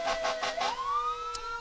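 Apple Valley Fire Department fire truck siren at a 4th of July parade in Eagan, a rapid pulsing yelp that shifts into a rising wail, heard from a moderate distance.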